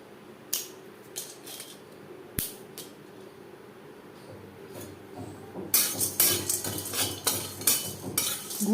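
Whole spices for chicken biryani drop into a wok heated on high and then turned down to low flame. A few scattered metallic clinks and taps come first, then a soft, continuous sizzle picks up and holds near and moderately loud.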